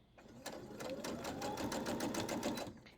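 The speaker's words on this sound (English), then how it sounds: "I'll stop right here and back stitch." Sewing machine back stitching a quilted sunflower coaster, a close, rapid run of needle strokes for about two and a half seconds before it stops, with the hum of the motor under a quiet voice.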